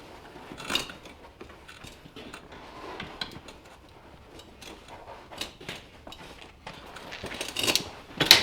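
Upholstery being peeled off a worn Recaro car seat from an S550: irregular crackling, ticking and tearing rustles in close succession, growing louder toward the end, with no talking.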